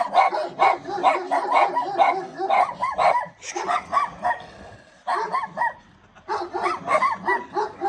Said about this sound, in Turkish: Burada da köpekler var.